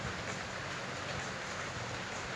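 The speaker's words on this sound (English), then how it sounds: "The rain noises. It's just too good to listen." Steady synthetic rain hiss from the Battle Cats video game, a dense even wash of falling drops heard alone at low volume with no voices.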